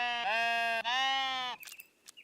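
A sheep in the video game Tiny Glade bleats twice in quick succession, loud, close and strongly tonal, followed by faint soft clicks and then quiet.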